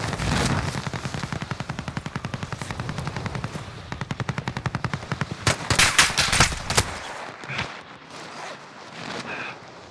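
Rapid automatic gunfire in an online battle royale shooter, sustained bursts of machine-gun fire with a few louder close shots near the end, no voice over it.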